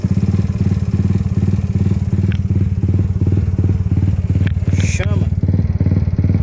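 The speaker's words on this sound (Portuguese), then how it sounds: "Eis aí uma moto com a lenta original." A motorcycle engine idles steadily at its original, stock idle speed, with a loud, even, close-up pulsing throb throughout and a brief higher rasp near the end.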